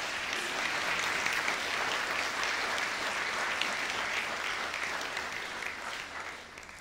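A graduation-ceremony audience at The Met applauds in a broad, continuous wash of many hands clapping that holds steady and then starts to fade near the end.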